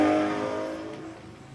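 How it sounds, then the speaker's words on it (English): A 3-litre V12 car accelerating away at the Shelsley Walsh hill climb, a loud, smooth high-pitched engine note that fades steadily as it pulls into the distance. "listen to the glorious sound of this 3-litre V12"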